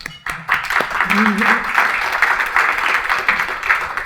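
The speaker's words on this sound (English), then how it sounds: "So I'm gonna give a clap for them as well." An annual-meeting audience applauds the board, a fairly loud burst of clapping that starts after a short pause and holds steady for several seconds, with a voice briefly heard over it.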